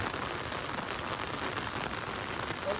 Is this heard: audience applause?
no